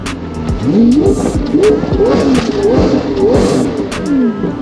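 A Lamborghini Aventador SV Roadster engine revs repeatedly with exhaust valves open, a loud, throaty roar, the pitch rising and falling in several surging bursts, close by.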